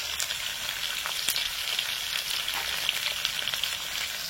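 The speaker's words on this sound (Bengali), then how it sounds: "এবার এটাকে শুধু নাড়াচাড়ার পালা, ভেজে নেবো পুরোপুরি।" Shrimp and bottle gourd mash frying in a pan while being stirred, a soft, continuous sizzle with occasional scraping of the spoon, fairly faint and close, with no talking.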